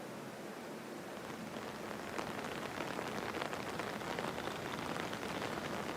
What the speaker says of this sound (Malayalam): മഴ ഇപ്പോൾ രാവിലെ ആരംഭിച്ചിട്ടുണ്ട്